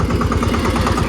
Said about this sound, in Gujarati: મિની ટ્રેક્ટર ગયું છે.